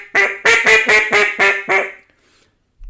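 A reed duck call blown by hand in a run of six loud, nasal quacks, evenly paced close to the mic, then quiet.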